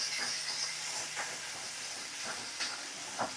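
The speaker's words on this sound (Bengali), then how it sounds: "ভালো করে কষিয়ে নিচ্ছি, একদম লো ফ্লেমে রেখেই রান্নাটা করছি আমি।" Cumin paste and spices sauté in a pan over a low flame while cooking prawn malaikari, giving a soft, steady sizzling hiss with a few faint clicks and ticks throughout.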